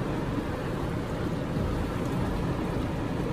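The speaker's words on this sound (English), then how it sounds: "It's just raining a wee bit." Steady soft patter of light rain, a continuous broadband hiss with faint low rumble, even and unbroken throughout.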